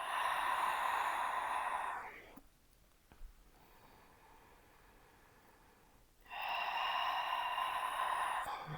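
Long, loud, breathy exhalations during a Pilates stretch, two drawn-out airy breaths close to the microphone separated by a quiet pause, with no talking.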